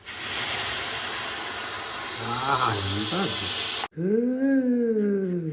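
A pressure cooker cooking rice releases a loud, steady hiss of steam with a voice briefly speaking beneath it; the hiss cuts off suddenly and a voice carries on.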